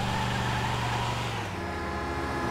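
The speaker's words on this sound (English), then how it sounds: "Don't you honk at me" A car horn blares at an emergency vehicle in GTA V, holding a sustained, loud, nearby tone that shifts pitch partway through and then carries on, with no talking.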